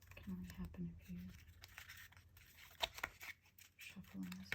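Soft papery shuffling and riffling of oracle cards in irregular bursts, with a few sharp taps and light scratches, close up and quiet.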